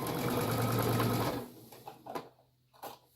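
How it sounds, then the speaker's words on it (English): Sewing machine stitching a fabric face mask, a steady close whirring run for about a second that stops, followed by a few faint handling clicks. "And sew right on off of it."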